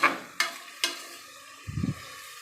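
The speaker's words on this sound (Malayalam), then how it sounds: "നന്നായിട്ടൊന്ന് മിക്സ് ചെയ്യാവേ ഉള്ളി നല്ല രീതിക്ക് ബ്രൗൺ കളർ ആവുന്ന രീതിക്ക് നമുക്ക് എടുക്കാം" Onions are stirred in a pan for a green beans curry: three sharp, separate scrapes of a spoon against the pan, then a short low rumbling shuffle, all fairly quiet.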